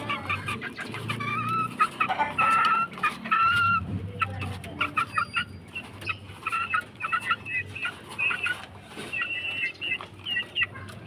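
Chicks cluck and peep steadily while feeding on soaked, softened dog food mixed into their feed. The bird calls are close and busy throughout, with no talk over them.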